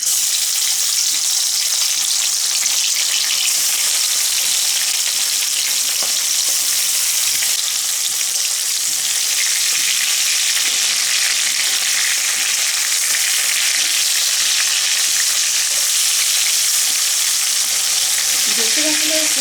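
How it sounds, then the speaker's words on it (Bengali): Lobster prawns coated in salt and turmeric fry lightly in hot oil, giving a loud, continuous, close sizzle that holds steady throughout with no talking. "এখন আমি তেলে ভেজে নেব"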